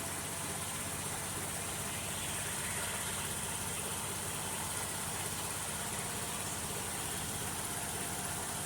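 A 2002 Ford Escape engine idling slightly high, a steady, fairly faint hum with a broad hiss running evenly throughout, no voices.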